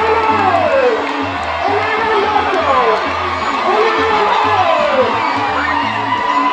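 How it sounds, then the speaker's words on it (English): An ecstatic crowd cheers at a presidential campaign rally at Arua Sports Ground, loud sustained shouting and whooping from many voices, with rising yells layered over a constant roar. "An ecstatic crowd flashing a thumbs up sign welcomed NRM presidential candidate Yoweri"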